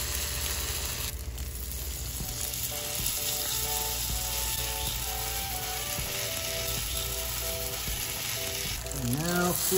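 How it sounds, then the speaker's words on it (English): Zucchini flower and ricotta fritters frying in a pan of oil, a steady, loud crackling sizzle throughout with faint clicking and a brief scrape near the end. "now we're gonna heat up a pan with a little bit of oil. Now, we're just going to create little fritters."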